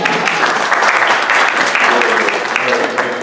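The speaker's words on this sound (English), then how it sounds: "Let's give him an applause." A live audience claps for a guest at a talk held at Rainier House, with dense, steady applause filling the room from start to finish.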